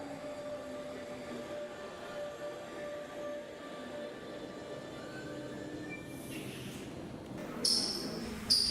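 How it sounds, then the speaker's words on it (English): A train ride toward the Reeperbahn district in Hamburg, with a steady low rolling rumble and faint tonal whine of the carriage, and brief sharp squeals near the end. "as we take the train to the Reeperbahn district."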